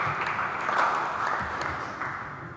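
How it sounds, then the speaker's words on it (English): Audience applause after a remark at a debate on Iraq and US foreign policy, a steady wash of clapping from a crowd lasting a couple of seconds, moderately loud and fairly even throughout. "I would even think it might deserve a round of applause."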